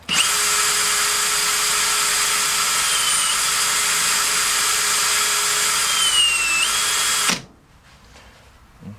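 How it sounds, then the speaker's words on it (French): A power drill fitted with a cleaning attachment whirs steadily and loudly while cleaning the screws of a car engine block with 238,000 km on it, with the pitch dipping slightly near the end before it stops abruptly, leaving quiet. "Là, on va nettoyer les vis."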